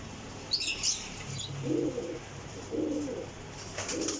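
Pigeons at a loft of flying birds coo in three clear low bursts, with a brief high chirp and a wing flutter near the start, close and fairly loud against a steady background hum.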